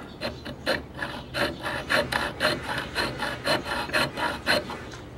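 Rhythmic back-and-forth rasping of a hand file filing a flat spot on metal for drilling, close and fairly loud, with about a dozen strokes in steady succession.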